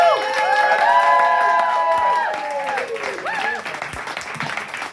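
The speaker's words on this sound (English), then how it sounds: "let's get the applause going for our next act" Audience applause and cheering greet the next act at a live show, with a crowd clapping, whooping and shouting loudly at first, then fading somewhat, while voices and melodic shouts rise over the clapping.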